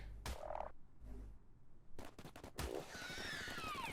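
A frog in a modded ARK Extinction game gives several loud croaks separated by quiet gaps, followed by rapid gunfire-like bursts and a sweeping electronic whine.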